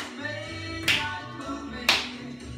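Two sharp hand claps from dancers in a dance and movement class, about a second apart, over soft steady music.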